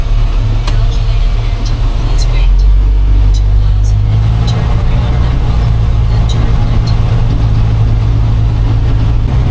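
A 1988 Grumman LLV mail truck's engine drones steadily with a low, heavy rumble from inside the cab while driving, with faint rattles and a voice now and then.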